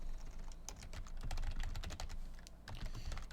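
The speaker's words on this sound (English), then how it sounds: "let me type this" Rapid typing on a computer keyboard, close and steady, with irregular clusters of crisp key clicks and no talking over them.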